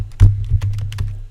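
A short burst of computer keyboard typing, a handful of quick, fairly close key taps in an irregular rhythm over a low background hum.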